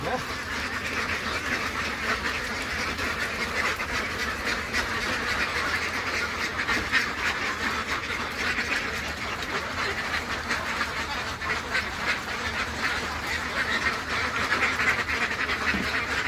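Ducks on a farm quack continuously while they eat the feed they have just been given, a dense overlapping chorus of nasal calls at moderate distance, with a person talking now and then underneath.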